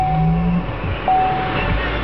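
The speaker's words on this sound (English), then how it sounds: "in order to turn the car on, you have to press the brake button and then press this power button" A Chevrolet Volt powers on inside the cabin with a soft electrical hum and brief tonal whine, a low transformer-like buzz heard up close under a quiet background.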